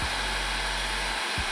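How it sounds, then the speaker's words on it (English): A very hot heat gun blows a steady, loud roar of air across copper clad aluminum 4 gauge wire, dipping briefly near the end before resuming. "And this is a very, very hot heat gun."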